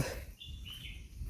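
Birds chirp around a quiet Konkan village in the rainy season, a few thin whistled calls drifting faintly over a low rumble of outdoor background noise.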